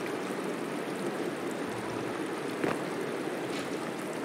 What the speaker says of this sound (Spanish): Se me está rayando el sonido del agua.